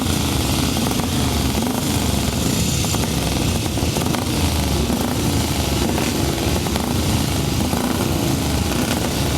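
A pack of 375cc grasstrack racing motorcycles roars away from a heat start, engines screaming loud and steady throughout as a sustained, layered drone with no voices.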